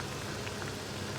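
Banana fritters (pazham pori) sizzle in hot oil with a dense, even crackling hiss close by, steady throughout with no voices.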